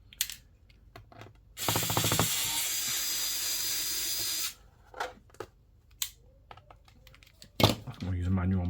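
A screwdriver working the screws of an Asus X505z laptop during an SSD fit, heard as small scattered clicks and scrapes with a long rough burst of grinding. A voice speaks briefly near the end.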